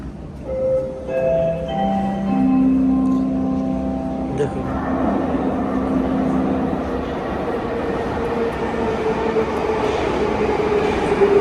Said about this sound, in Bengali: ওই পাশে একটা ট্রেন আসতেছে